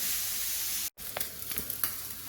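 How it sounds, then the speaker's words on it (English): Steady sizzling of minced pork frying in a hot wok, with a brief cut of silence and a few scraping stirs afterward. "So I'm just going to carry on frying that"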